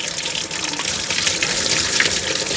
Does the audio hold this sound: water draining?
yes